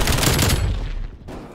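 A burst of video game gunfire from a shooter with a golden armor skin, loud and dense for about half a second, then fading into a rumbling tail with a brief final crack.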